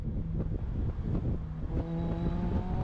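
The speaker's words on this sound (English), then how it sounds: "I'm accelerating late, and that's good in a rear-wheel drive car." Rear-wheel drive car accelerating on a race track, a steady engine drone with a rising tonal whine under heavy wind buffeting, fairly close and continuous.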